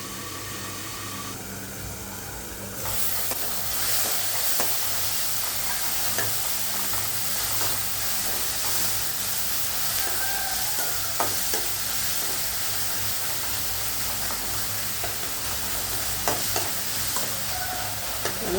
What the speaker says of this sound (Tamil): நல்லா வதங்கிக்கணும்.